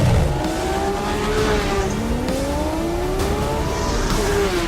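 Porsche V10 race car engine from the Porsche Museum, 612 horsepower with ceramic brakes, rising and falling in pitch through gear changes, loud and continuous with no talk over it.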